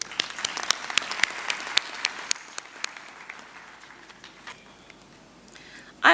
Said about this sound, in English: Let's give these talented young artists another round of applause.